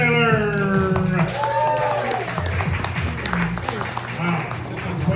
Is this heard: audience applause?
yes